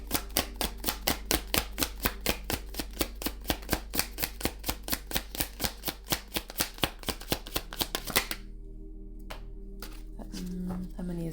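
Tarot cards riffle-shuffled rapidly by hand in a steady train of crisp flicks for about eight seconds, then a few softer taps and slides as cards are drawn, close and clear with a faint room hum.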